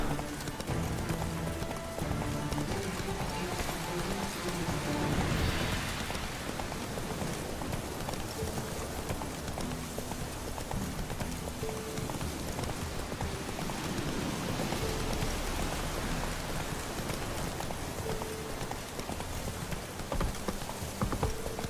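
In The Witcher 3 video game, horse hooves clip-clop steadily in a quick rhythm over a constant patter of rain, with no talking, continuing throughout.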